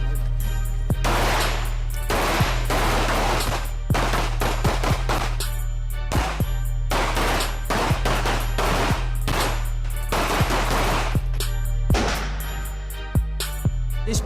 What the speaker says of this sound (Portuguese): Uma instrução de pistola, 9mm, e a instrução de fuzil.